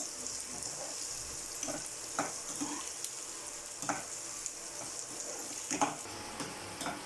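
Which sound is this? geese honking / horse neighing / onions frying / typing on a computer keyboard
onions frying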